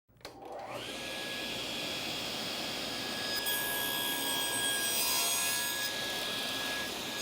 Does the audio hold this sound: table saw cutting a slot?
yes